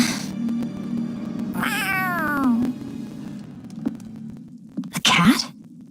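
A cat meows in the video game Tales of Arise, one drawn-out wavering cry near the middle over a steady low hum of background music, followed by a short sneeze-like burst near the end.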